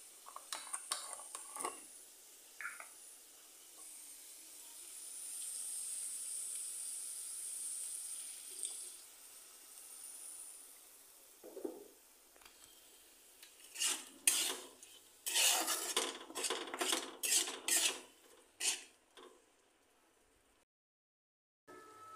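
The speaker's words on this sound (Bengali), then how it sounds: "এখন এটা ভালো করে একটু নেড়ে নেব।" Fish head curry is stirred in a pan, with quiet scattered clinks at first, then a burst of rapid, close metal scraping and knocking of a spoon against the pan before it stops.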